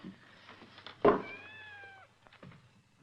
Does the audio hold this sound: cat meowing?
yes